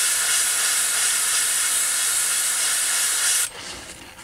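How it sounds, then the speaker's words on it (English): Blue spray paint hisses through a stencil onto a handmade topwater shrimp lure, a loud, close, continuous spray lasting several seconds before cutting off into quieter sputtering. "give it a little spritz sort of on each panel with the blue"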